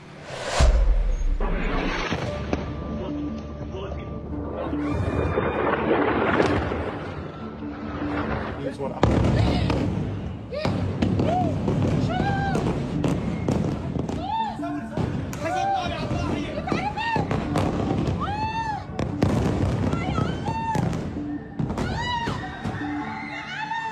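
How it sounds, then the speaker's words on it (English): Israeli airstrikes hit Beirut's southern suburbs at night, with heavy booms and crackling blasts across a dense, noisy scene, while someone talks over them and other voices rise and fall in the background. "ضاحية بيروت الجنوبية هذا قصف هستيري من قبل الطيران الإسرائيلي ليلا"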